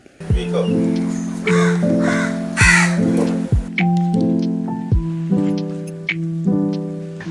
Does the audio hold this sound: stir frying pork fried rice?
no